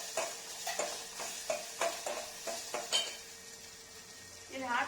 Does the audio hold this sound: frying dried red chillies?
yes